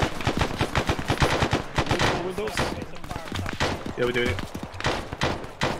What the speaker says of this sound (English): we're taking shots! Taking shots from up the hill.